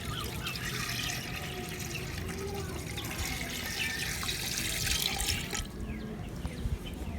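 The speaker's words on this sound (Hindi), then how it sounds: "और इसमें शामिल करेंगे हम 1 जग पानी का शामिल करेंगे।" Water poured from a jug into a cooking pot for beef nulli pulao in a village kitchen, a steady splashing gush running for several seconds and tapering off near the end.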